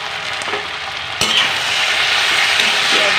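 Ginger and garlic stirred in a hot cooking pot, a steady close frying sizzle that swells sharply partway through and then holds loud and even, with faint scraping.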